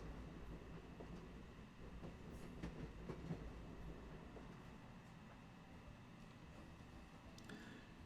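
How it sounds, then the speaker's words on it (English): Freight train rolling through a train yard in the video game Where the Water Tastes Like Wine, a boxcar rumbling and clattering steadily with faint metallic clicks, continuous and fairly quiet with no voices. "So I'm going to hop a train."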